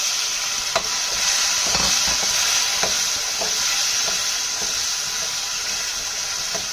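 Apple gourd sabzi frying in a pan gives off a steady, moderate sizzle, with scattered soft clinks and stirring taps as tomatoes go in; no voices.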